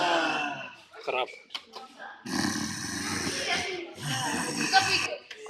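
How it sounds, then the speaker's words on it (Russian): Snoring sound effect played back at a science museum sound exhibit, loud rasping snores in long rattling bursts, with people talking nearby. "Храп."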